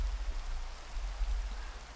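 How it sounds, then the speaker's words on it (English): Rain falls steadily in Minecraft as a soft, constant hiss with a low rumble underneath, even and unbroken, with no voices. "It is appropriately raining."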